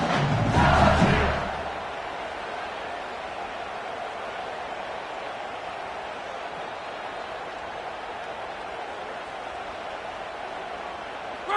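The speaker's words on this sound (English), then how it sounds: "for an entire game, they are on their feet, yelling, screaming." A stadium football crowd on its feet keeps up a dense, continuous roar of yelling and screaming, loudest in a brief swell at the start and then holding steady.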